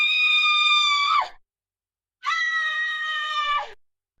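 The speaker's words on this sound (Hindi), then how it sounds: "अब मोबाइल से अजीब आवाजें आने लगीं, जैसे किसी को गला घोंटकर मारा जा रहा हो या कोई दर्द से चिल्ला रहा हो।" An eerie scream effect plays from a mobile phone: two long, loud, shrill wailing cries, like someone being strangled or shrieking in pain, separated by a short stretch of silence.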